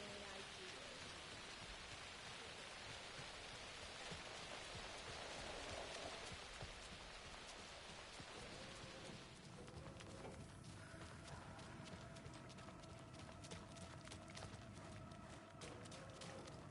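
Steady, dense rainfall pours through a night scene in the video game Alan Wake 2, a constant hiss that shifts midway to a patterned pattering on nearby surfaces.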